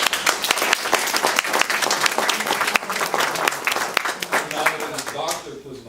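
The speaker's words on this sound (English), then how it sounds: "I'd like her to stand up so we give her a round of applause" At a school board meeting, a room of attendees gives a round of applause for the assistant director's completed doctorate, with loud, dense clapping and a few sharper claps that stop abruptly at the end.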